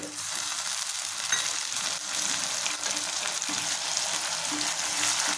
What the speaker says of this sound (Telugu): ఉల్లిపాయలు అలా వేగినాయి కదా, టమాటాలు వేసేసుకున్నాం.